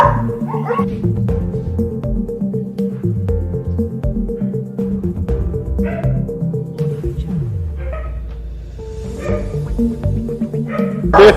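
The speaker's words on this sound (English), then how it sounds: "So this is our pet hostel where we keep dogs, whereby the owner is unavailable to take care of them." Several dogs bark, yip and whimper continuously inside a pet hostel where dogs are boarded, a mix of near and farther voices layered over a steady kennel background.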